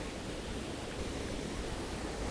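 Waterfall in Hokkaido, Japan, heard as a steady, dense broadband rush of falling water with no breaks, moderately loud and uninterrupted.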